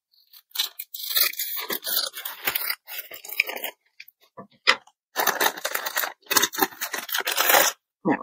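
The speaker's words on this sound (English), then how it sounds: "I'll use scissors then." Scissors snip and crunch through a plastic package close up, giving a series of irregular cutting and crinkling bursts with short pauses between them.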